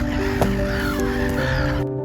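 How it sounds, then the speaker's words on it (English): A greylag goose calls from about six feet away at a nature reserve, giving harsh, honking cries over a steady background hum, close and fairly loud. "This is a grey lag goose,"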